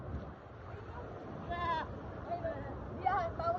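A few wavering bleats from a goat come and go at moderate distance, heard over a steady outdoor background hum.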